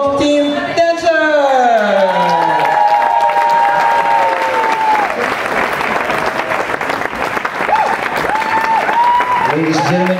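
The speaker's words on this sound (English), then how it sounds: "give them a big round of applause for the Roy Verdonk team." Enthusiastic audience applause for Roy Verdonk's dancers at a Dutch dance show, sustained loud clapping with cheers and whoops from the crowd, while a presenter's voice carries over the top at the start and again near the end.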